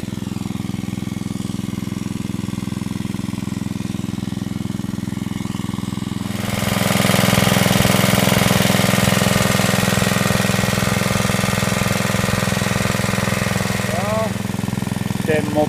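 An engine runs steadily throughout with a low rumbling drone, growing louder and harsher partway through, as if revved, before easing slightly near the end.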